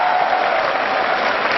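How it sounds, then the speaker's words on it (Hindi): Loud, dense applause from a college audience at a live Hindi poetry performance by Kavi Manoj Gurjar at Career Point University, Kota, steady rapid clapping filling the whole moment without speech. "देखो आपको आनंद आ रहा हो तो एक बार जोरदार तालियां बजाओ"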